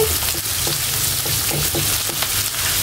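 Sliced onions and green chilies fry in hot oil for a spiced beef tripe stir-fry: a steady, dense sizzle close by with light stirring scrapes, and no talking.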